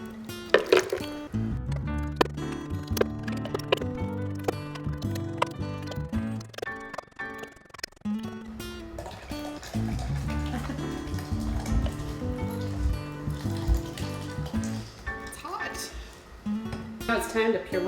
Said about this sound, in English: I'm not brave enough to pour it in, so I'm going to use a ladle